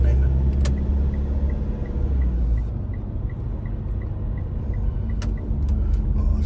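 Road traffic rolls through a street in Cebu, a constant loud rumble of cars and heavier vehicles with brief hissing bursts and faint chirping, while people talk in the background.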